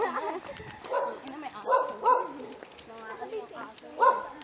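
Several sharp dog barks and yips ring out close by, mixed with people talking over them.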